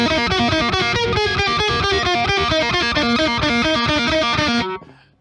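A distorted electric guitar riff, picked rather than finger-tapped, plays loud and fast in a tight repeating pattern, then cuts off abruptly.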